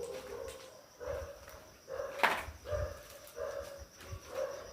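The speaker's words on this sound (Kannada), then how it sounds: "ಇವಾಗ ಏನಕ್ಕೆ ನಾಯಿಗಳು ಈ ಥರ ಅಳ್ತಾ ಇದೆ" Dogs howl in drawn-out, wavering cries that rise and fall in repeated bouts, somewhat distant, with quiet gaps between them.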